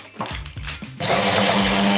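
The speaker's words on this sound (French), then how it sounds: "je mets les fans de radis dans un petit robot" A small food processor whirs in short pulses, then runs steadily and loudly, blending radish tops with egg yolk, mustard and olive oil into a mayonnaise, close up with no talking.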